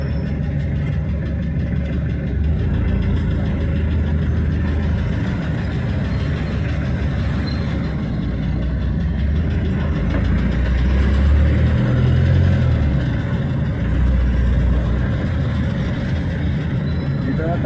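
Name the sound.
city street traffic with many vehicles, Bacolod City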